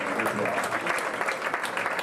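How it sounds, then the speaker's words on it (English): Steady applause from a crowd, clapping densely and continuously throughout. "How about a round of applause for Smothers?"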